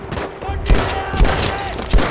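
Heavy machine gun fire in the Battlefield V campaign on PC, Tirailleur mission: a loud, continuous roar of gunfire with deep thumping impacts recurring about every half second, plus a voice speaking faintly beneath the din.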